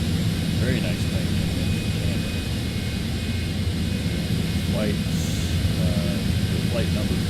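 A Wheels Up private aircraft, flight 93, rumbling steadily overhead as a broad, continuous roar that holds across the whole stretch, with voices faintly present underneath.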